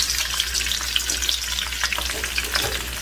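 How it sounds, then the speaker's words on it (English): Plant-based sausages fry in a pan with a steady, close sizzle and crackle, faint stirring scrapes and scattered spits running throughout, with no talking. "so you can put the sausage in, but we don't want it to get too real hot"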